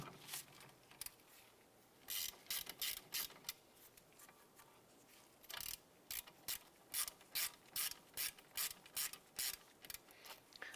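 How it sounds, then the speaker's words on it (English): Ratchet wrench loosening a rear brake caliper slide bolt on a 2006–2011 Cadillac DTS, producing quiet irregular clicks at first, then a steady run of rapid ratcheting bursts, close up. "wrench or ratchet, and we're going to go ahead and loosen this upper caliper slide bolt"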